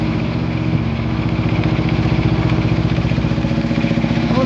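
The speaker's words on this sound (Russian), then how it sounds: "Движок вроде работает." A diesel engine idles steadily nearby, a rhythmic low clattering chug holding an even pace throughout with no talk over it.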